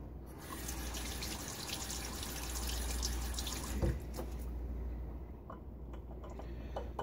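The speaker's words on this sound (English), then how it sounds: "Gonna keep adding a little bit of water." Water trickles into a Williams Mug Soap lather as it is worked with a silvertip shaving brush: a steady, close, wet swishing and running-water hiss that lasts throughout, with one sharper knock midway.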